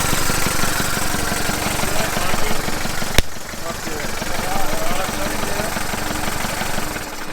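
A Toyota BJ42 Land Cruiser engine idles, a steady low rumble with a regular mechanical pulse, a brief sharp click midway, and voices talking over it at times.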